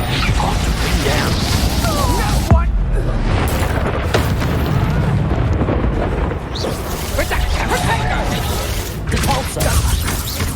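Confringo fire spell explosions in the Hogwarts Legacy video game, with heavy booming blasts and rumbling combat effects in a dense, loud battle mix, a sharp impact near the start and voices and spell calls heard over the din.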